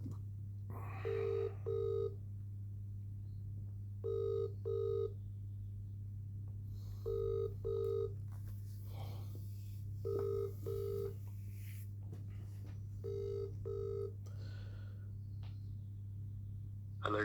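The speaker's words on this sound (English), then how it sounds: "Ringing up Jonathan Smith." An outgoing call rings through a phone line to a law firm, with the double-pulse ringback tone repeating six times at steady intervals over a constant low hum, no voices.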